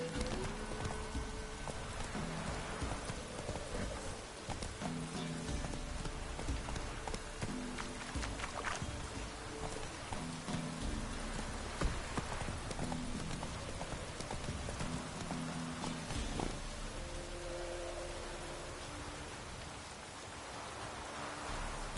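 Horse hooves clip-clop at a gallop in The Witcher 3, a continuous rapid drumming of hoofbeats under a rain-like wash of ambient noise, steady and moderately distant throughout with no talking.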